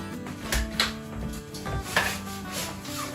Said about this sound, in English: we're going to slide the fabric all the way through